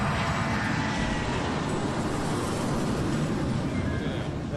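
Inside a Boeing 757 with Rolls-Royce engines, a steady, loud engine roar drones without pause as the jet prepares to depart from Palm Beach.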